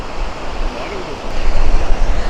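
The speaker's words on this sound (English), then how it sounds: "My goodness me, it is windy" Strong wind buffets the microphone on a Mallorca beach at Playa de Muro in October, a loud continuous rumbling roar that swells louder in the second half, with faint surf underneath.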